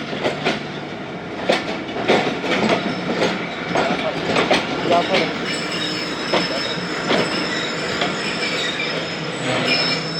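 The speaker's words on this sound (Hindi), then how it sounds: "4561 लोकोमोटिव लगा हुआ है जाफ़र एक्सप्रेस के साथ" Jaffar Express passenger train hauled by locomotive 4561, heard from on board as a steady rumble with clattering wheels and squealing rails, some metallic clicks, and faint voices underneath.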